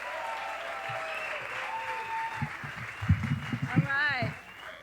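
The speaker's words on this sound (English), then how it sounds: "Give a huge round of applause for Mia." At a Moth StorySLAM storytelling event, an audience breaks into a short burst of clapping and cheering that builds toward the end, with voices mixed in.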